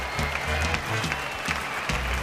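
Steady crowd applause rolls through the hall after a ballroom dancing final at the 2005 European Standard Championship in Russia, with a thumping musical beat beneath the dense clapping.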